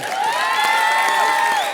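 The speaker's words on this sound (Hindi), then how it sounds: "जोरदार तालियां गांडा के लिए।" A studio audience at a Hindi comedy show cheers and applauds loudly, a crowd roar with whoops and shouting voices riding over the clapping, full and close for the whole moment.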